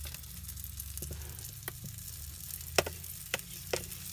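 Flour sizzles softly in sausage grease in a 6-inch mini skillet, a faint steady crackle punctuated by a few sharp ticks and clinks of stirring.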